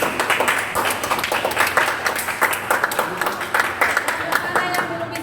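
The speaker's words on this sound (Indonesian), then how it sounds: "Kasih aplaus." A classroom of grade 12 electrical installation students claps together, a dense, steady round of applause lasting several seconds with a few voices faintly mixed in.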